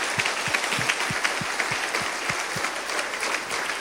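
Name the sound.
church congregation applauding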